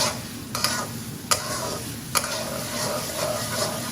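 Spiced dried fish (shutki) is stirred and fried in a pan, giving a steady low sizzle with a few sharp spatula taps against the pan, close up and with no talking.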